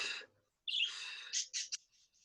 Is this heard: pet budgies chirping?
yes